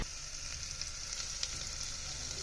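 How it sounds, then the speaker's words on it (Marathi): Roasted onion fries in hot oil in a pan for a chicken curry, giving a steady close sizzle with a bright hiss and faint crackles throughout, with no voices. "भाजका कांदा पण आता टाकलेला आहे तेलात"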